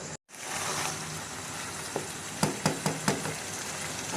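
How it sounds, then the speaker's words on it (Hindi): Potatoes and spinach for aloo palak fry in oil in a pan with a constant close sizzle after a brief gap near the start, and a few light stirring knocks come toward the end. "अब आलू पालक ने ऑयल छोड़ दिया, इसकी बुनाई हो रही है बिल्कुल।"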